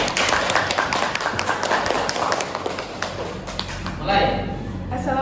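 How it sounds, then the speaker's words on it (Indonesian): Classroom group applauding a student presentation group: scattered hand claps and taps from many people at moderate distance, uneven and lively, with voices talking underneath. "Aplaus untuk kelompok 3."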